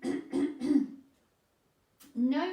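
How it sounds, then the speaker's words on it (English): A short cough during a Pilates exercise is heard near the end, after a woman's spoken instructions and a brief silence. "So you're here and you're going to take a little cough,"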